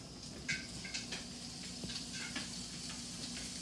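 Morel mushrooms hit a smoking-hot, well-seasoned cast iron skillet and sizzle with a quiet, steady frying hiss, broken by a few soft pops and faint utensil clicks.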